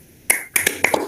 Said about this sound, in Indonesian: berikan tepuk salut untuk Mbak Nurul dan Mbak April